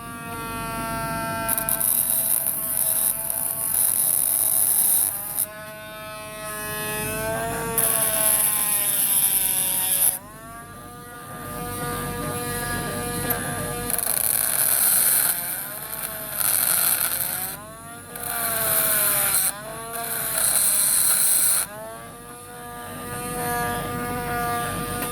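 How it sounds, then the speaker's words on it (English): A rotary tool fitted with a small grinding wheel grinds a Matchbox Lesney No 23 VW Campervan model, a high whining motor that repeatedly drops and rises in pitch as it bites and lets off, close and loud. "again with my rotary tool, just take the brush out, put a little grinding wheel on, and we'll just see if we can just grind that."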